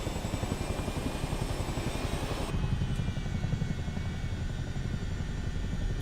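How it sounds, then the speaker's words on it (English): Chinook tandem-rotor helicopter landing in Microsoft Flight Simulator 2024, a steady loud rotor and turbine roar with dense low thumping that stays close and continuous, shifting to a duller tone partway through. "Trying to land a Chinook at fucking."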